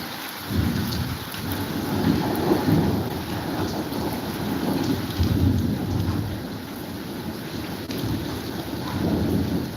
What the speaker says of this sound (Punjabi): ਇਸ ਟਾਈਮ ਮੀਂਹ ਤੇਜ਼ ਪੈ ਰਿਹਾ ਹੈ ਹਲਕੀ ਹਲਕੀ ਗੜੇਮਾਰੀ ਵੀ ਹੋ ਰਹੀ ਹੈ